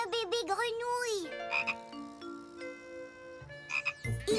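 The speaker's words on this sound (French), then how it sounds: "Un bébé grenouille." Cartoon frogs croak in a few distinct, close, wobbly calls alongside tinkling chime-like tones, with a voice briefly heard.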